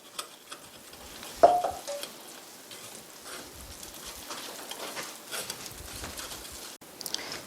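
Oyster pancake batter is stirred softly with water in a bowl during Korean oyster pancake prep. The scraping and sloshing is faint and continuous, with one brief louder clink.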